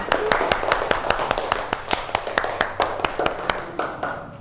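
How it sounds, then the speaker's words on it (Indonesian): Classmates in a classroom clapping for peers who came to the front, sharp rhythmic hand claps in a fairly regular beat, close and loud, with a little voice underneath. "Tepuk tangan buat teman kita yang sudah berani maju ke depan"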